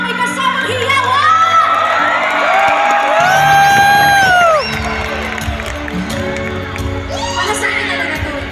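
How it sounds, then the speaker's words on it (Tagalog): An indoor crowd cheers, whoops and shouts loudly and steadily, with high voices rising over the din. The noise swells to a peak, then eases into a lower murmur and scattered calls. "Isang masigabong palakpakan may kasamang hiyawan!"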